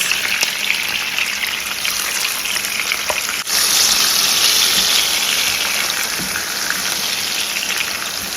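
A pepper mix hits a hot pan for spicy Koobi sauce, producing a loud, continuous sizzle and fry that stays dense and steady from start to finish.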